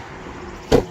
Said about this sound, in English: I will hop in here and pop the hood for you.